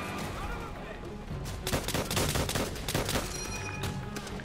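Rapid machine gun bursts and scattered gunshots in the World War II shooter game Call of Duty: World at War, sharp clustered cracks over a busy battle backdrop with a voice underneath.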